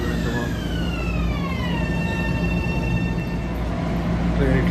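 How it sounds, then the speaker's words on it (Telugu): Commuter train bound for New York's Grand Central heard from on board, with a steady loud rumble and rising and falling electric motor whine throughout. "ఎక్సలెంట్ ట్రైన్, ఎంత బాగుంది"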